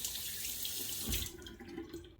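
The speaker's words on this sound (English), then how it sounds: "I'm gonna do a quick cold water rinse" Cold water runs from a bathroom tap for a rinse after shaving, a steady close hiss of flow into the sink with slight splashing changes near the end.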